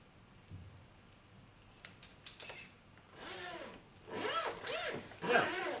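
A myoelectric prosthetic hand pulls a zipper tab: a few faint clicks first, then several close, rasping zip strokes in short bursts, growing louder toward the end.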